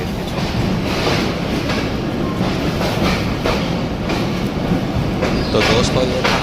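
Inside the 147 Up Miyanwali Express passenger train between Sargodha and Lahore in Pakistan, the carriage rumbles loudly and steadily with rhythmic wheel clacks over rail joints, close and continuous.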